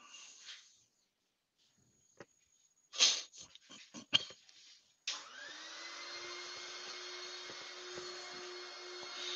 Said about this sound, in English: Slow speed sanding.